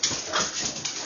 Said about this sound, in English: my dog was chasing her tail behind me, and I didn't know if it's too loud or whatnot